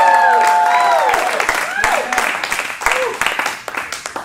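Audience applause and cheering for a jazz quartet of tenor saxophone, piano and bass, a dense clapping crowd that gradually thins into scattered claps, with a voice talking over it at the start.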